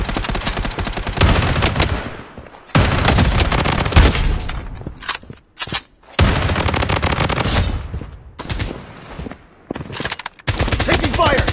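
Machine gun fire in the mobile shooter BloodStrike, loud sustained bursts of automatic gunfire separated by short pauses.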